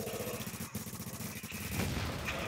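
Gunfire in Tom Clancy's The Division: rapid, evenly spaced automatic bursts of moderate loudness fire continuously, with a couple of brief gaps and a slightly heavier report near the end.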